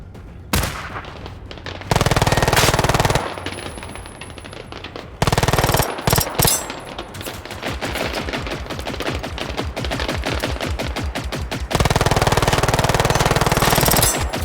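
Automatic weapon fire in the video game Generation Zero, long loud bursts of rapid shots separated by brief pauses, the rattling streams close and dominating the scene.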